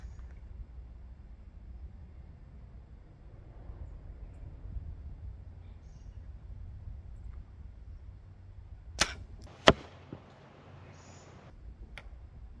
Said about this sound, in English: Let's go ahead and shoot the field point.